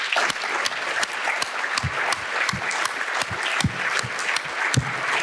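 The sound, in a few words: audience applause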